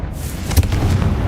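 Confringo blasting spell cast in a Hogwarts video game, a single short booming burst mid-clip over a dense low rumble, loud and close.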